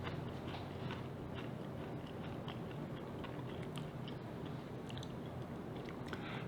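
Crunchy homemade everything-bagel grissini are bitten and chewed, a run of close, crisp cracks and crunches over a steady background hiss.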